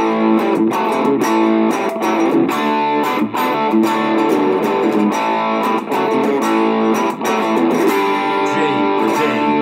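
An electric guitar is cranked up with heavy distortion, its loud chords and strummed notes ringing out in a steady rhythm with no talk.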